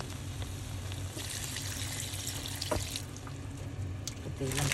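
Water runs into a cooking pot while sardines and noodles are being prepared, a steady broadband pouring rush that continues for several seconds at close range with low kitchen hum underneath and a voice faintly present.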